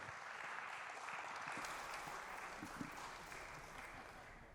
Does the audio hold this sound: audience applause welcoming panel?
yes